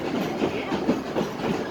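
Dolly Express steam train ride behind engine number 70, a World War II veteran formerly of the White Pass and Yukon Railroad, heard as a steady rhythmic clickety-clack of wheels on rails, moderately loud and close.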